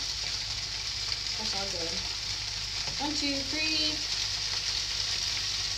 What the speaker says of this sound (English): You might not be able to hear me because I'm gonna start sizzling.